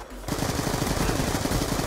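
Rapid automatic gunfire from a gun in Call of Duty Black Ops 2, a steady, fast burst of close, loud shots that starts abruptly and runs without a break.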